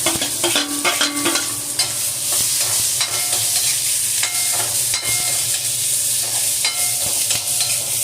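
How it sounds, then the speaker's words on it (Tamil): Steady sizzling of chopped onions sautéing in a pan for a capsicum side dish, with occasional stirring scrapes, continuous and close throughout. "வெங்காயம் ஓரளவு வதங்கட்டும்"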